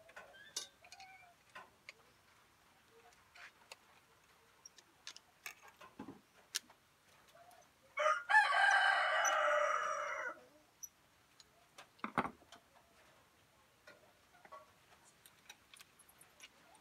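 A rooster crows once nearby for about two seconds among scattered clucks and small ticking sounds from chickens in a quiet rural yard.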